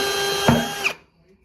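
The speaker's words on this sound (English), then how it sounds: "So let's go drill." A power drill with a tile bit whirs steadily for about a second, its pitch shifting as it bites into shower tile, then cuts off into quiet.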